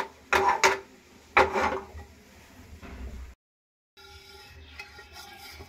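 Whole cumin seeds are dry-roasted in a dry wok, with a few sharp scraping and clinking strokes of a stirring spoon up close, followed by quieter rattling after a short gap.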